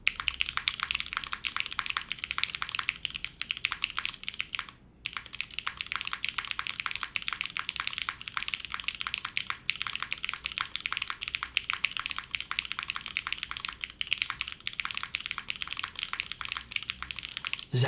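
Continuous fast typing on a mechanical keyboard built with a carbon fiber plate and Cherry stabilizers, a dense stream of close, crisp clicks and clacks with one brief pause midway and no voices.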